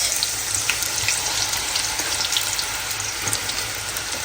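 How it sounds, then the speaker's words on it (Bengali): Steady crackling sizzle of spices and onion frying in hot oil, close and continuous, with a few louder pops scattered throughout. "মশলাটা একটু ভাজা হয়ে ভাজা হয়ে আসছে এখন আমি দিয়ে দেবো পেঁয়াজ"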